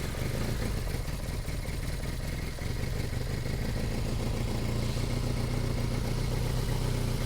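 A Triumph Bonneville engine runs close by as a loud, dense mechanical rumble with rapid clattering pulses, a brief dip near the start then settling into a steady, slightly uneven idle, no talk.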